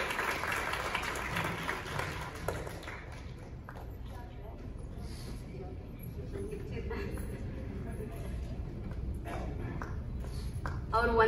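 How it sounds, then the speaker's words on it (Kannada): An audience claps after a children's song medley at a community event, a dense burst of applause at first that thins out while someone talks over it. "ಮತ್ತೊಮ್ಮೆ ಚಪ್ಪಾಳೆ ಬರ್ಲಿ"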